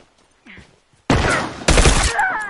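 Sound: burst rifle gunfire in video game The Last of Us

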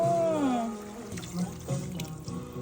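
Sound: water being added to chicken stew pot

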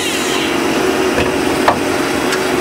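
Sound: Star SA16R CNC Swiss lathe machining

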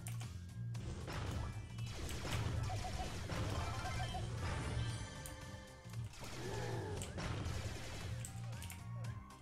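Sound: smashing an object with a club in the video game Brawl Stars

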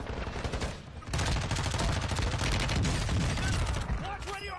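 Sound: gunfire in a video game

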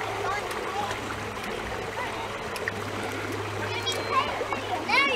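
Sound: splashing water

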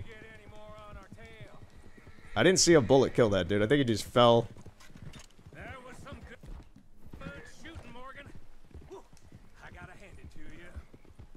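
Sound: horse hooves and whinny in video game Red Dead Redemption II

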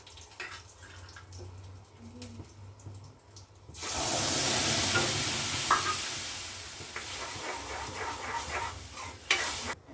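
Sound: chili and cumin sizzling while mixed in a pan

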